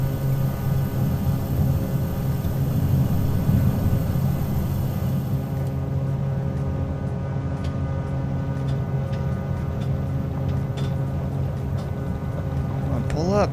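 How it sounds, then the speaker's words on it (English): Turboprop engines of a small plane spool up with a loud, steady drone and tonal hum near the cockpit, the whine rising toward the end, while a voice talks over it. "Gotta love the sound of those turbos."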